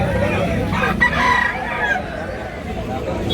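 A gamecock rooster crows amid the noisy hubbub of a fighting-cock sale, the call rising clearly over a steady crowd babble with scattered voices nearby.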